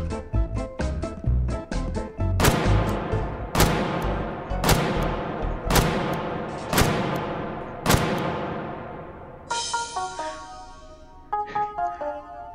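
Heavy S&W 500 revolver loaded with armor-piercing rounds, fitted with a compensator and foregrip, firing in the VR shooter H3VR: about six loud, evenly spaced booming shots with ringing decay, followed by metallic clicks and clatter of the cylinder being handled.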